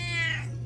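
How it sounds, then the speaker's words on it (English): A cat gives a single short, close meow, loud and clear with a slight falling pitch, against a faint steady hum. "That's a good cat."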